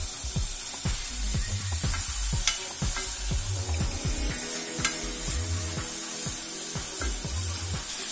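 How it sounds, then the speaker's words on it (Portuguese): Crackling sizzle of 150 grams of bacon frying in a heated pan, with repeated scraping stirs and occasional sharp pops over a steady hiss. "numa panela aquecida, vamos fritar 150 gramas de bacon."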